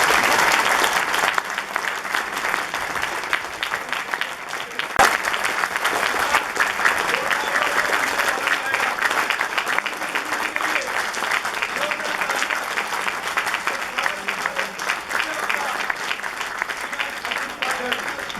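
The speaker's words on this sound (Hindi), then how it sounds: "एक बार जोरदार तालियां।" Applause from a crowd at a Hindi-language public talk welcomes the main speaker, Ashwini Upadhyay, a loud, sustained roar of clapping that runs steadily for many seconds, with voices faintly present underneath.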